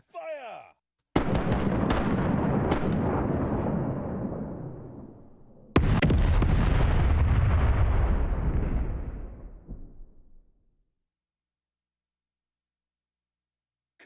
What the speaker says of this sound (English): Commence fire